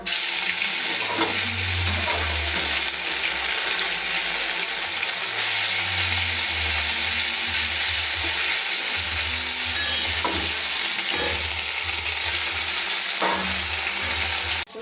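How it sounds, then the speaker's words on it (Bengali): Whole spices of bay leaf, cumin and dried chili with ginger paste frying in hot oil in a home kitchen, a loud continuous sizzle and crackle broken by stirring scrapes, with no voices over it. "তেলটা গরম হয়ে গেছে, ফোড়ন দেবো তেজপাতা, জিরে, শুকনো লঙ্কা দিয়ে দেবো, আদা বাটা"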